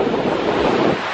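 Ocean surf by Santa Monica, a continuous broad roar of breaking waves mixed with wind buffeting the microphone, loud and close with no talk.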